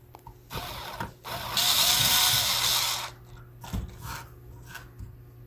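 A cordless screwdriver drives small screws into an HP 15 laptop. Short whirring bursts sit close to the mic, with one longer, louder run in the middle and quick ratcheting clicks between them.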